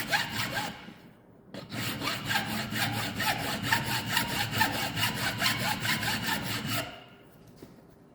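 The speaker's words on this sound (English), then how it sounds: "Cross filing, remember you're at an angle," Coarse file cross-filed diagonally across a steel hammer head, giving a loud, steady rasping stroke rhythm for about six seconds after a brief pause, then stopping.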